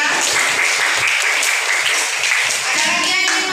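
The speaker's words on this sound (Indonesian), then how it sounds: "beri tepuk tangan untuk Dindia" Classmates in a school classroom applaud a student's reading, a loud, close burst of hand clapping lasting a few seconds with a brief voice near the end.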